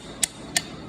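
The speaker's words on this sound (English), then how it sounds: "I'm gonna go grab my hammer and go ahead and just tap that thing out." A hammer taps out a PTO housing part on an Allis Chalmers WD tractor with three sharp metallic knocks, evenly spaced and close, over a quiet background with no talking.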